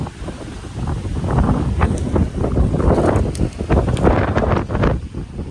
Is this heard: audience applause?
no